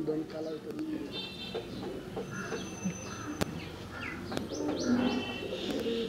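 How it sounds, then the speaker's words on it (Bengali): Chuina pigeons coo in low repeated phrases amid scattered chirps and clicks from other birds, with a voice talking faintly beneath the flock. "এই যে এটা হইছে চুইনা কবুতর"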